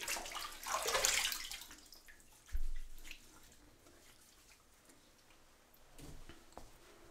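Tap water running briefly while rinsing after a shave with a Gillette Atra razor, a faint splashing hiss followed by a few small drips and knocks, quiet and close, no talking.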